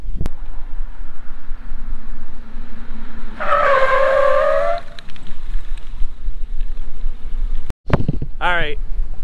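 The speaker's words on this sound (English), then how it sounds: "35 miles an hour. I'm gonna start braking at that pole," A Willys jeep with disc brakes braking hard from 35 mph, a brief tire squeal rising over road and engine noise, followed by a sharp thump and a voice reacting.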